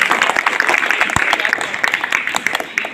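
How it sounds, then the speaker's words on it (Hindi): Crowd applause at an Azadi Ka Amrit Mahotsav village gram sabha gathering, close and lively with many distinct claps that fade slightly toward the end, with some voices mixed in. "मैं चाहूँगा एक बार जोरदार ताली बजाने के लिए"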